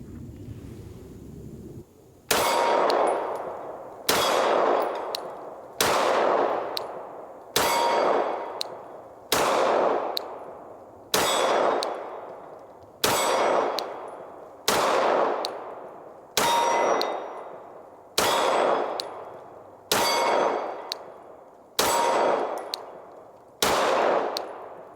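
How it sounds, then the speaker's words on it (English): Twelve evenly paced Glock pistol shots, each followed by a bright metallic ring as the round strikes a steel target, the ringing decaying before the next shot at the range. "don't beat me over the head if you don't hear a ding after every one of these shots"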